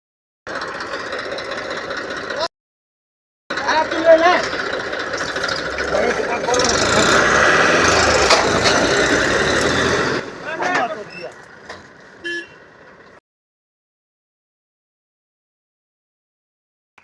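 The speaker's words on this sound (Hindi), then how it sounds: "ट्रैक्टर को नहीं पिकअप को टोचन कर रहे हैं" A tractor engine works in a field to tow a stuck pickup truck, rumbling loudly and roughly for several seconds, then tapering off into quieter running and silence, with people talking over it.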